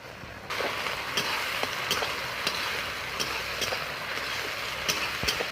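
Ginger-garlic paste frying with browned onions in a pan for mutton curry, a steady close sizzle with brief clicks of stirring spread through the stretch, no voices.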